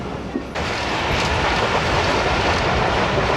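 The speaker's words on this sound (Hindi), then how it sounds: "आ गए हैं जनाब मेन लाइन पर, आप देखें कब स्पीड पकड़ती है ट्रेन।" Karakoram Express train rolling along the main line and picking up speed, with a loud, steady rumble and rattle of carriages that swells after a brief quieter moment and carries on without a break.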